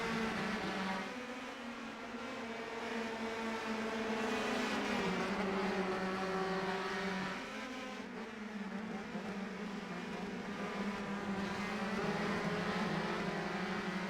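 Race cars in a video game's Australian Grand Prix drone continuously with layered engine tones rising and falling as they jostle through the field, a steady mid-loud roar with no talking.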